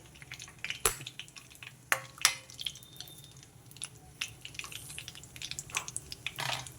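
Whole cloves, a small piece of cinnamon and cardamom frying in hot oil for mushroom masala curry: soft sizzle with scattered sharp crackles and pops, fairly quiet and close.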